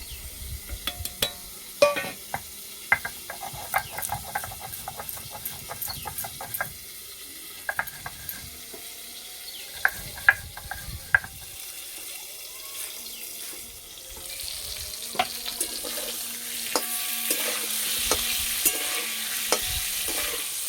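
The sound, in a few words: frying and stirring in a pan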